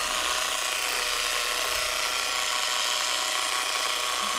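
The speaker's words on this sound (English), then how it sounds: "So if we wanted to polish this thing up, all we'd have to do is apply some polishing compound." Cordless 12V mini polisher buffing with polishing compound, a loud, even high-pitched whir that runs unbroken and close up.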